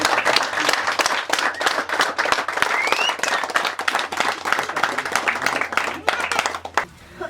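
A congregation in a chapel dedicated to Pope John Paul II applauds loudly, a dense, continuous crackle of many hands that holds steady and then stops abruptly near the end.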